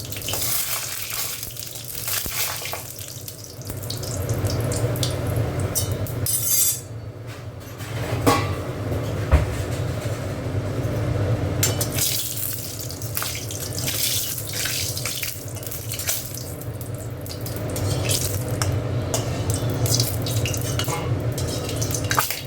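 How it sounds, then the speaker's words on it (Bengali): Dried red chillies fry in a kadai, a long steady hissing sizzle heard up close with intermittent stirring and scraping noises and no talking. "শুকনো লঙ্কাগুলো ভেজে নিলাম।"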